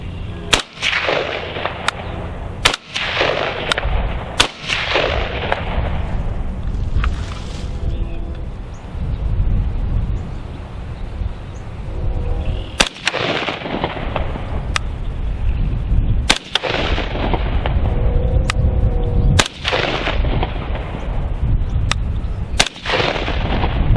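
Rifle fitted with a Geissele Super Sabra trigger fired outdoors: loud, sharp shots, spaced irregularly with gaps between, each leaving a short echo tail over steady wind noise.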